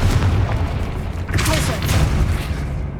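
Confringo blasting spell in the Hogwarts Legacy video game, a heavy booming burst with crackling debris over deep rumble, loud and close, with a voice speaking during the blast.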